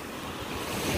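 Strong surf at the beach on Balut Island, Sarangani, Davao Occidental, rushes in a broad, loud wash mixed with heavy wind buffeting the microphone, a brief continuous roar with no voices.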